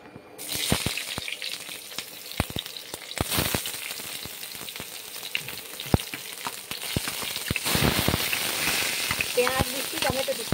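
Onions frying in a hot wok (kadai), a continuous close sizzle with scattered sharp spatula knocks and scrapes, the hiss swelling louder toward the end.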